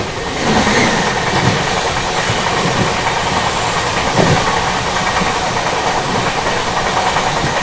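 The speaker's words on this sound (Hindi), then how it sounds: "बगल से क्रॉस हो रही है बांद्रा गोरखपुर हमसफर एक्सप्रेस।" The Bandra Gorakhpur Humsafar Express rushes past on the adjacent track, a loud, continuous rolling roar with rhythmic wheel clatter heard close up from a moving train, with no voices.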